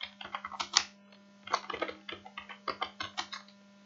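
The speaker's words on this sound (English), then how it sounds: "So here I'll type" Typing on a computer keyboard while entering a basic Excel formula, with quick irregular clusters of light clicks and taps, close and quiet, over a steady low electrical hum.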